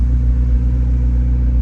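McLaren 750S Spider supercar idling with a deep, loud, steady engine rumble heard close up, a low throbbing drone that holds even without a clear rise in revs, and no talking.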